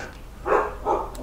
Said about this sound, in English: That'd be the dog freaking out about a parcel.